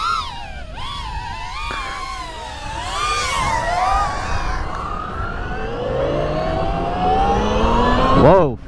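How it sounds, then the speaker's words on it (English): An electric dirt bike with a geared transmission revs its motor in neutral, a high electric whine that rises and falls in pitch, climbing steadily in several sweeps and ending in a sharp surge. "So now it's in neutral, so I can rev it."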